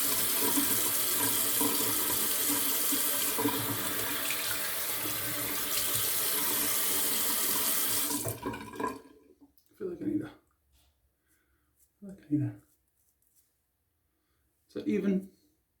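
A tap runs steadily and loudly while a straight razor is rinsed, then the water shuts off and a few brief clicks and quiet voices follow in near silence.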